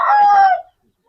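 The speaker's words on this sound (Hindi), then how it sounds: "ये मुर्गा निकला हुआ है, लेकिन बहुत ही अच्छा मुर्गा है जी" An Aseel rooster gives a single short, loud crow up close, lasting well under a second and cutting off into silence.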